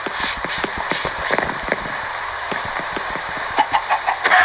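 Clucking of a chicken inside a video game, a run of short sharp clucks in quick irregular rhythm, fairly close and clear, with game background noise underneath and no talk.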